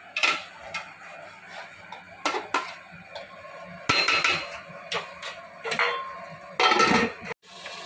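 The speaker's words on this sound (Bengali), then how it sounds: "এবারও গ্যাস কমিয়ে নাড়াচাড়া করে চাপা দিয়ে দেবো।" A spoon clatters and scrapes against a pot while mutton curry with fried potato pieces is stirred over low gas. The knocks and scrapes are close and irregular, with no voices.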